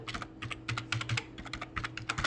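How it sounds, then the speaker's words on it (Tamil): Quick, light clicks of typing on a computer keyboard, close and fairly quiet, in irregular bursts of keystrokes with short pauses between. "நான் ஜஸ்ட்டு டைப் பண்ணேன்"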